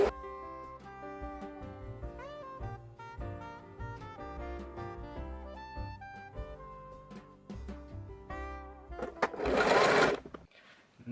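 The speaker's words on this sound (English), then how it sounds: "now I'm just going to sew these bits together with a normal straight stitch" A domestic sewing machine running a normal straight stitch on small fabric pieces for Christmas accessories, heard as a faint mechanical whir under background music, with a brief louder burst near the end.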